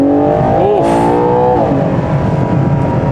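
A 2024 Ferrari Purosangue's naturally aspirated engine revs up loud and close, its rising whine climbing steadily in pitch before settling into a steady roar, with no talking.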